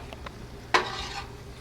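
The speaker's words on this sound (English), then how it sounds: "Just kind of lightly stir it and watch how much it separates." Heated milk with citric acid being lightly stirred in a pot as curds separate for homemade Velveeta cheese: one sharp utensil scrape then a soft sizzling swirl, close and brief.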